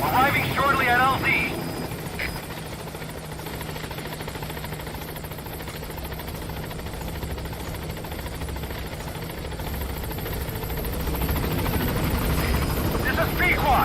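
A helicopter arrives at a landing zone in a video game, its rotor drone loud and steady, swelling again near the end, with radio-style voices over it.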